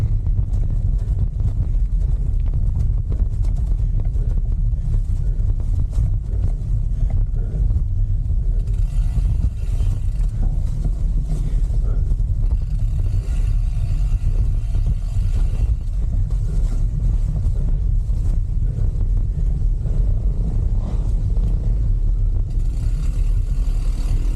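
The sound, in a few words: enduro motorcycles passing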